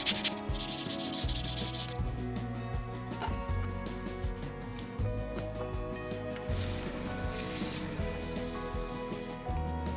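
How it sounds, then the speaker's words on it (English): Close, steady hand sanding: a green abrasive pad scrubs back and forth over a wood-turned powder keg in quick rubbing strokes, with a low hum in the background. "I'm going to try to sand it by hand with the green"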